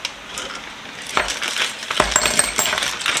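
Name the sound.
small ratchet socket parts dropped into a Ziploc bag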